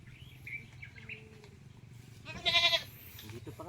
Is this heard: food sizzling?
no